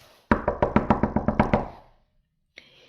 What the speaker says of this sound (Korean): 이때 누가 문을 두드렸어요.